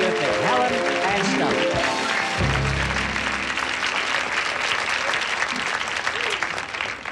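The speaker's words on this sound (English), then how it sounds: "you're applauding?" Loud, sustained applause from a large audience fills the clip, steady clapping throughout with a brief bit of voices at the start.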